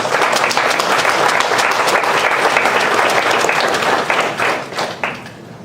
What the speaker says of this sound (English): So give our panelists a round of applause.